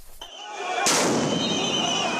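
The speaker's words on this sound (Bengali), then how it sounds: "অবস্থানরত শিক্ষকদের ছত্রভঙ্গ করতে এভাবেই নিক্ষেপ করা হয় সাউন্ড গ্রেনেড" A police sound grenade thrown at a teachers' protest gives one sharp, loud blast that rings on into a sustained noisy roar with crowd commotion, preceded by a brief shorter crack.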